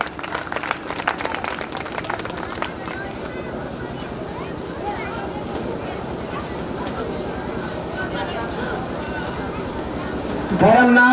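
An audience claps and cheers at a college function in Siwan, a dense steady applause that lasts throughout, with a voice rising near the end.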